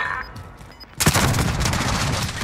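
Burst of rapid gunfire in a sniper-focused online shooter game, starting abruptly after a quiet second and continuing as a loud, dense volley with sharp cracks.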